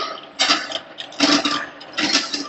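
Bakery dough mixing machine with a bowl lift pulley, running on its slow-speed gear: a steady mechanical whir and gear rattle that swells in three louder surges, close and continuous with no voices.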